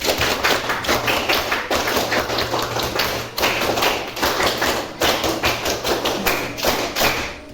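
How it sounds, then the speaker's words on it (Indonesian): Schoolchildren perform the Pramuka scout clap twice in a row, loud rapid rhythmic clapping in two patterned rounds with a brief break between them, close and energetic. "2 kali tepuk pramuka."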